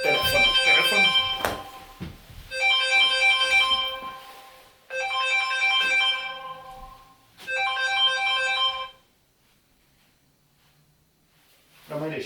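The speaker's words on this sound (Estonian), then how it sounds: "Telefon." A mobile phone ringtone plays in three repeated melodic bursts of about two seconds each, separated by short pauses, fairly close and clear, with no talking over it.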